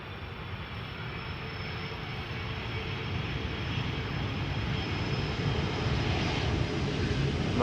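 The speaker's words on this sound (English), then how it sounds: "There is an Embraer 190 arriving from Glasgow after it." An Embraer 190 jet arriving at Amsterdam Schiphol Airport rumbles in a steady, broad engine roar that swells gradually louder as it nears, with no voices over it.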